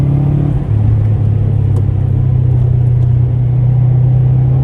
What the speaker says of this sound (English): fantastically, unbelievably gorgeous sound of an exhaust